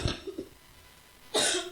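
A man leading an online church service gives a few short, close coughs, one at the start and a harsher one near the end, with quiet in between.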